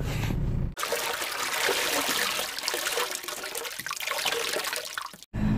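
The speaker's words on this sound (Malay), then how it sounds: "Saya pergi kencing dulu" A man urinating: a continuous splashing stream of liquid hitting water or a bowl, loud and close, running steadily for several seconds without talk.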